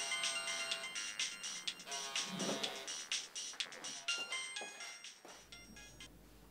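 A phone rings with an incoming call, playing a bright electronic ringtone melody of quick repeated notes, fairly quiet and steady, with a short burst of low rustling partway through.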